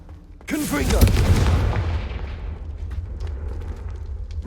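In Hogwarts Legacy, a Confringo fire spell explodes with a sudden loud boom that crackles and sizzles, then decays into a long rumbling tail. A voice speaks briefly over the start.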